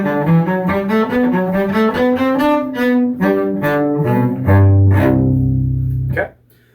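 Cello playing measures 27 to 30 of Rondo Grazioso from the Sonata in C Major at full tempo: a loud, close, fluid run of quick bowed notes ending on sustained low tones, with no voices over it.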